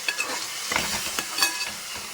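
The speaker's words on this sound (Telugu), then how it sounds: "మగ్గిపోయింది కదా మనం తిప్పుదాము" Ridge gourd curry with chana dal being stirred in a pan: a few soft scraping strokes of a spoon over a light sizzle, close and fairly quiet, with no voices.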